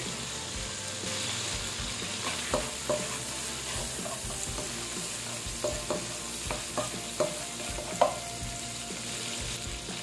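Garlic fries in the oil left from cooking shrimp, a continuous close sizzle with scattered clicks and scrapes of stirring throughout.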